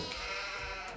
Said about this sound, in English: we have 38 out of 38 sheep